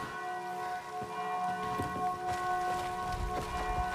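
A bell tolls at dusk in the video game Dying Light 2, with long sustained ringing tones layered over a soft patter of rain and scattered low thuds.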